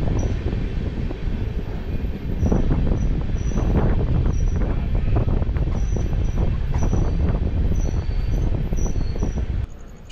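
Mumbai LTT–Dibrugarh Express 15945 passing Selenghat station: a loud, close, continuous rumble and clatter of wheels and coaches that holds steady for about ten seconds, then cuts off abruptly.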